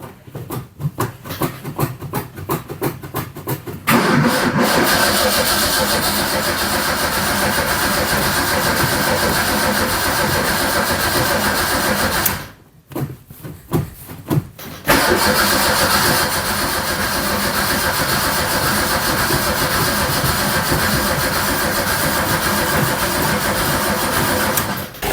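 Barn-find Zastava 850 small car being cranked from a van battery: rapid starter churning at first, then a long loud sustained roar of cranking, a brief break, and another extended cranking run, close up and with no talking.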